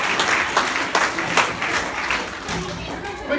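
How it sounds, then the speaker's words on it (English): Audience applause for a comedian at a college show in Colombo: a dense, lively wash of clapping that swells in bursts, then thins out toward the end. "Let's give him a round of applause."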